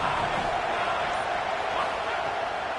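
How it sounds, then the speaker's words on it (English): Dense, steady roar of a large football stadium crowd filling the air, broad and continuous at moderate loudness without distinct cheers or breaks. "This crowd ready to make its presence known."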